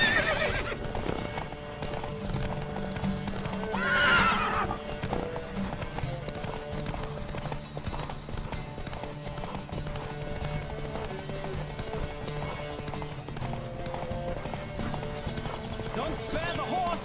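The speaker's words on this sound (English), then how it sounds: "Don't spare the horse!" Rhythmic hoofbeats of a galloping horse in the video game The Witcher 3: Wild Hunt with an occasional whinny, over a steady music bed and game sounds, with voices shouting now and then.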